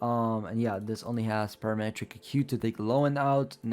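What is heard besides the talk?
No everyday noises stand out.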